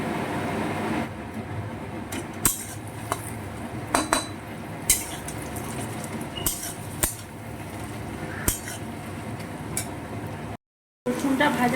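Garlic paste frying with softened onions for a mutton curry, a spoon clinking and scraping the pan in sharp scattered knocks over a steady sizzle, close by.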